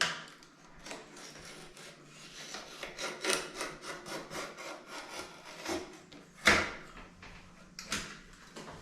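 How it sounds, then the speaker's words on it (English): A utility knife scrapes and saws through old sealant around a bathroom sink, giving close, repeated rasping strokes in an uneven rhythm with a sharper scrape partway through. "I'm just going to go around with my utility knife and I'm just going to loosen all this sealant"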